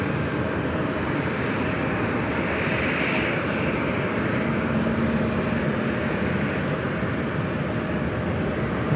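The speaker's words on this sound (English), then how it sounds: "This next arrival is Delta Connection 5825. It's operated by Republic Airways, coming in from Boston on the" Delta Connection Embraer E170 jet operated by Republic Airways arriving from Boston at LAX, a steady broadband engine roar held at an even loudness throughout, close and continuous with no talk.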